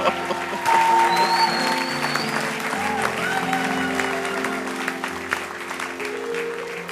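A church congregation at a large convention in Montréal applauds to acclaim the Lord, with loud sustained clapping and crowd voices mixed in.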